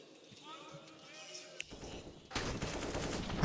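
Gunfire in a CS:GO Inferno pro match, with sparse shots early on, then a burst of sharp rapid fire near the end, heard under a commentator's excited talk.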